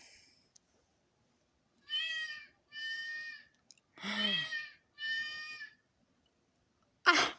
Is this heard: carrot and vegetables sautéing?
no